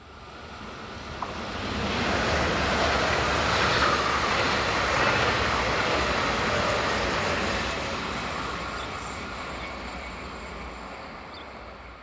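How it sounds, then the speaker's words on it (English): Swiss passenger unit 500-031 on an hourly service from Solothurn, rounding a curve. A steady broadband roar builds quickly, holds for several seconds, then slowly fades, with a faint high squeal, alone with no voices. "500-031 rounds the curve, forming one of the hourly services from Solothurn"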